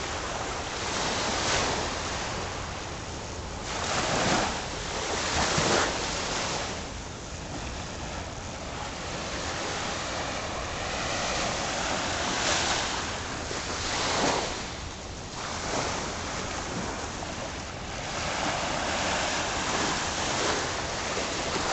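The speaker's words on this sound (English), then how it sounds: "just want to take this opportunity now for you to hear the ocean and not me." Ocean surf rolls onto the shore at Pompano Beach, Florida, a continuous rushing wash with louder swells as waves break, mixed with gusty wind buffeting the microphone and no voices.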